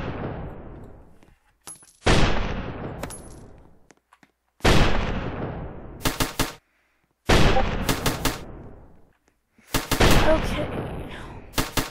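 Tower shooting in the Roblox tower-defense game Tower Battles: four separate loud bursts of gunfire, each a sharp crack with a decaying tail and rapid repeated shots at the end, with gaps of silence between bursts and a brief spoken word.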